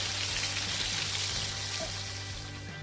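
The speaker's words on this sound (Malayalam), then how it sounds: "അപ്പം നന്നായിട്ട് തിളച്ചതിന് ശേഷം നമുക്ക് ഇതുപോലെ ചിക്കൻ ഇട്ട് കൊടുക്കാം" Chicken pieces frying in hot oil for Kerala-style fried chicken, a steady close hiss and crackle of bubbling oil with no talking.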